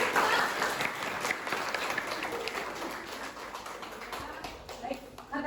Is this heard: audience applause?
yes